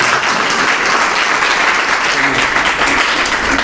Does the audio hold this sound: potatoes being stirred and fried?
no